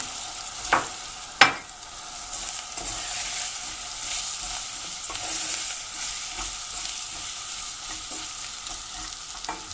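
Red lentils and flour frying in a pot for lentil soup: a steady, close sizzle with stirring, and two sharp knocks against the pot early on.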